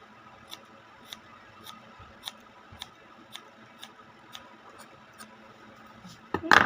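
Scissors trimming a young girl's bangs at home, a series of sharp, evenly spaced snips at close range, roughly one every half second, followed by a louder brush or rustle at the end.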